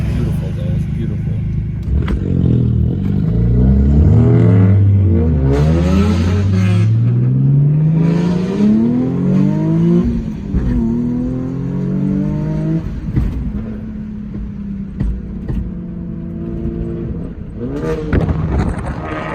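A 2021 Honda fitted with a Tomei Type D exhaust and an RV6 catless downpipe and front pipe revs loudly and up close, its engine note climbing and falling in repeated swells with a deep, raspy drone.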